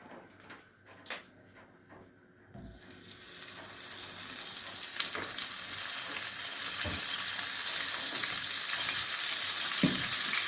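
After a couple of faint clinks, butter hits a frying pan with a loud sizzle that settles into a steady, hissing fry continuing to the end.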